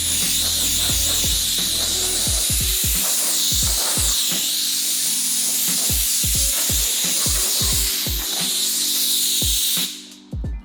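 Compressed air blasting silver metal flakes off a Jeep hood during a hood louver install: a steady, loud hiss runs throughout, broken by short repeated clicks and taps, then cuts off abruptly near the end.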